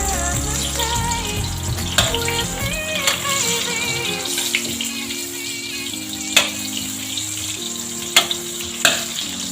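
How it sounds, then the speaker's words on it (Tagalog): Butter melting into hot cooking oil in a pan while preparing banana rum-A, a steady sizzle and frying hiss with occasional sharp clinks, accompanied by background music with no talking. "maghalo tayo ng butter dito sa ating mantika"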